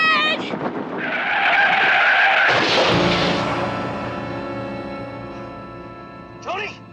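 A car skids on a blown tire during a televised chase, a long screeching squeal of tires with engine noise that fades out, followed by a short squeal near the end; people talk over it.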